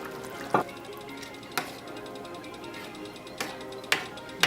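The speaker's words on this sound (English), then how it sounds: "it's beginning to boil" Thick baked ziti tomato sauce starting to boil in a pot on the stove, with scattered soft bubbling pops and plops standing out over a low simmering background.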